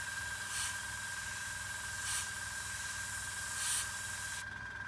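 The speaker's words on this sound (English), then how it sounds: "So just spray on the side of the tank here, straight flat black." An airbrush sprays flat black Tamiya lacquer paint onto the side of a model tank, giving a steady close hiss with a constant high tone and three brief swells where the spray intensifies, cutting off near the end.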